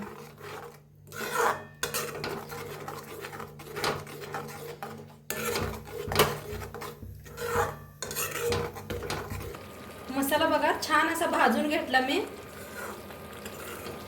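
A spoon stirring and scraping in a pan as corn is roasted with masala and curd, repeated rasping strokes with pauses, and someone talking over much of it.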